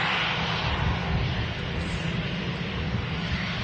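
An EasyJet airliner arriving from Paris lands at Manchester Airport on a windy day, heard as a steady, broad engine roar at a moderate distance that holds throughout, with no voices.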